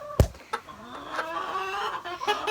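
A young hen, once mistaken for a cockerel, gives a few soft, short clucks close by, with light farmyard rustling between them.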